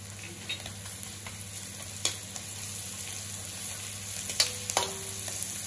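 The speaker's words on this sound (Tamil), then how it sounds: "இப்போ இஞ்சி பூண்டு பேஸ்ட் போட்டுக்கலாம்." Onions with ginger garlic paste sauté in a pan for mutton curry, a steady low sizzle broken by occasional scraping stirs and clinks of a spoon against the pan, with no one speaking.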